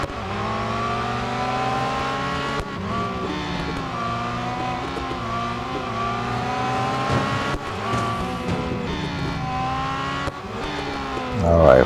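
Porsche GT race cars competing in Real Racing 3 at Circuit de Catalunya. Engines roar continuously, rising and falling as they shift gears, with brief tyre squeals and a final surge of revving.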